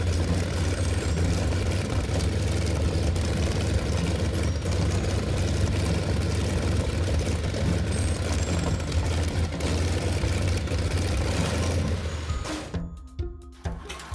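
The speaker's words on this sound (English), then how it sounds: "The slow, sharp, rock-solid firing beat of this cast iron block carved itself into history" Old Crossley cast iron engine with open flame ignition runs steadily up close, a continuous low rhythmic chugging that continues until it drops away at the end.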